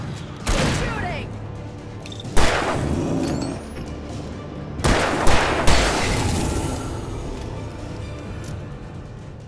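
Gunfire in the video game Alan Wake Remastered: loud booming shots at irregular intervals over a constant rumbling game backdrop, with a brief whistling streak between blasts.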